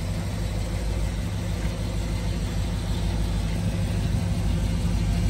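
A 1963 Chevrolet Impala idles with stainless steel Borla mufflers, giving a steady, deep, rumbling exhaust note that is loud and close and holds even throughout.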